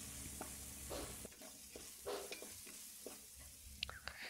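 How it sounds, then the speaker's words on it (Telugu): Ginger garlic paste fries in a pan for a tamarind fish curry, a faint, low sizzle with soft scraping stirs and a few small clinks. "ఒక 2 మినిట్స్ వరకు మనం ఈ అల్లం వెల్లుల్లి పేస్ట్ని పచ్చివాసన పోయే వరకు ఫ్రై చేసుకోవాలి."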